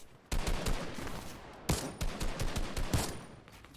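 Gunshots ring out in a Fortnite match during a competitive trios playoff, several sharp bursts and rapid shots spread over a few seconds, moderately loud and heard without talk.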